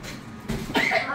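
A child coughs at a birthday party: a couple of close, sharp coughs in quick succession, with faint voices around.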